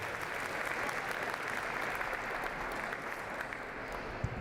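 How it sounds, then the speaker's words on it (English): Steady applause from a crowd at a Lunar New Year celebration, continuous clapping at moderate distance without pause. "Let's give them a big round of applause."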